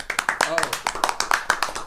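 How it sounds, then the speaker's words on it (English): A short round of applause for a guest on a college men's soccer podcast, a few scattered claps tapping out in an uneven rhythm, close by, with talk running over them. "Let's have a round of applause"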